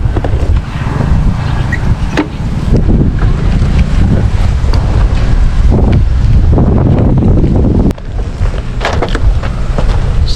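Strong wind buffets the microphone in a constant loud roar, with gusts rising and falling throughout.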